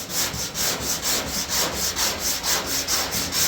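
Rhythmic, scratchy strokes of 80 grit sandpaper work over body filler on a Chevy C10, about four even back-and-forth passes per second, close and loud.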